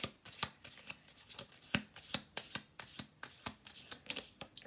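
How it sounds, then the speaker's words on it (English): A deck of playing cards shuffled repeatedly by hand, a run of crisp riffling bursts in a quick regular rhythm, close and fairly quiet with no talking. "Do 2 more shuffle throughs."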